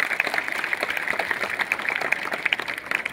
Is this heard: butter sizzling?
no